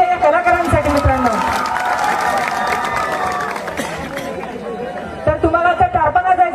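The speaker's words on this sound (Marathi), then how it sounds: "जोरदार टाळ्या होऊन जाऊ द्या या कलाकारांसाठी" Crowd applause and cheering for visiting performers at a village haldi celebration, clapping mixed with lively chatter and voices, easing mid-way before renewed noise near the end.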